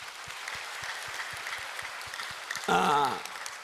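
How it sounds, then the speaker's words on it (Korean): Church congregation clapping in a steady, even rhythm at a distance, fairly soft, with a brief burst of voice or singing near the end. "오늘 갈수록 할렐루야 찬양이 은혜로운데 한번 박수합니다"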